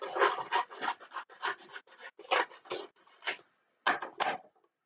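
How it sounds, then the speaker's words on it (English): Scissors cut out a paper circle in a run of crisp, close snips at an uneven pace, then pause briefly before a few final snips. "Then you're going to cut out your circle."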